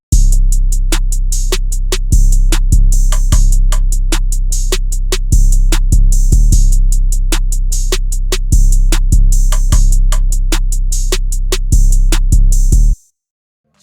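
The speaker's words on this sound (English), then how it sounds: "My percussion with the 808s will sound like this." Dark trap beat programmed in FL Studio, with booming sustained 808 bass notes under rapid crisp hi-hats and snappy percussion, loud and dry, stopping abruptly near the end with no voices.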